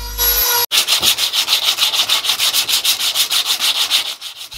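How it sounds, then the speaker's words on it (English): A Dremel with a sanding bit works tight spots on a wooden handle: a short motor whine, then about twenty rhythmic rasping strokes in a quick, regular back-and-forth pattern, loud and close, before fading at the end. "I then use my Dremel with a sanding bit to get into even tighter spots."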